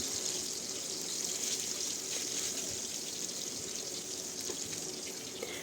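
Fish frying in hot oil for a simple home meal, with a steady, dense sizzle that holds even and close throughout, no voices.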